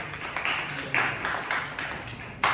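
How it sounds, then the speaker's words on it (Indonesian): A classroom group applauds the first student group, a short patter of hands clapping with a few sharper claps standing out, close by and moderately loud. "Ya, beri tepuk tangan untuk kelompok 1."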